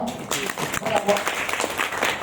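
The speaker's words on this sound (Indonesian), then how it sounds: "Tepuk tangan dulu ya." An audience claps at an insurance agents' training session in a hotel ballroom, a steady wash of applause with a voice talking over it.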